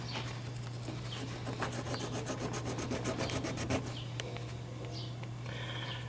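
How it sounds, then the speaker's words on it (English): A deer nasal bone fish hook point being sharpened, with steady scraping and rasping strokes that build into a quicker run of rubbing mid-way, close up, alone against a constant low electrical hum. "then sharpen this point"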